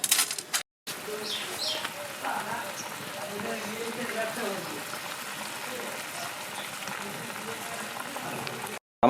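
Shukto, a Bengali vegetable curry, bubbles in a pot with a steady, soft, continuous simmering hiss and faint crackle lasting several seconds, briefly cut by a short gap near the start.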